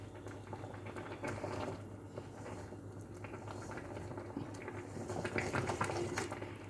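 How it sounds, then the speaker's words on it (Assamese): A pot of leaves cooking with baking soda boils steadily, a soft continuous bubbling and patter at low volume with no talk over it. "কেনেকৈ উতলিছে।"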